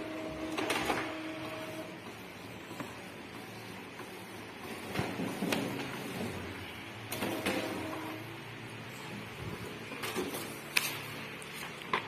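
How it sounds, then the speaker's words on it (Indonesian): An Epson L3110 ink tank printer runs a print job on a page with its ink nearly empty, giving a steady mechanical whir with repeated sharp clicks and carriage knocks at close range, no talk. "Jadi kita langsung print saja."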